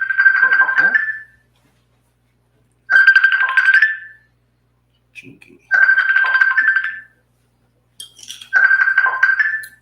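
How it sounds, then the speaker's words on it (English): A Facebook call ringtone plays over house speakers in a home kitchen, four bright melodic bursts of about a second each with pauses between them, loud and clear. A voice briefly speaks in between. "That's what happens when you get a Facebook call over the house speakers."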